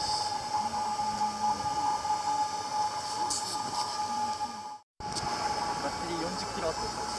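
A pump-like electrical sound comes from a Toyota Hiace EV with a 380-volt system, a steady continuous whirring hum with a faint tonal whine that briefly cuts out near the end before resuming.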